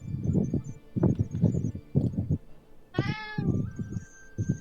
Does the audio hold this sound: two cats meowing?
yes